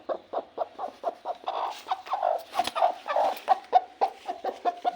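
A broody village hen clucks close by in a steady run of short, rhythmic calls, some louder and more drawn out, with no talk over them.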